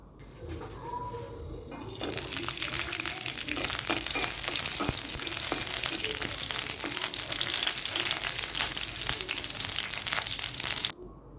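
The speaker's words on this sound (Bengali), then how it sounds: "কড়াইয়ে তেল দেওয়ার পরে কিছুটা কাঁচামরিচ আমি ভেজে নেব" Green chillies hit hot oil in a wok and burst into loud, steady sizzling and crackling close up that continues for several seconds.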